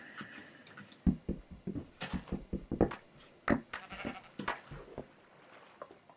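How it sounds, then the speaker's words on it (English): Sheep in the video game Minecraft bleat several times in quick succession amid clicks and knocks from gameplay, close and moderately loud. "Oh, hello sheep."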